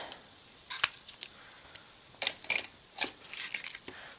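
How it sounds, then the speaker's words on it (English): Scissors cutting open the packaging of a blue rubber iPhone 4S case, a handful of sharp snips and crinkly plastic crackles in short irregular bursts, close and fairly quiet. "Let's see if we can have to get a scissor and cut this one out."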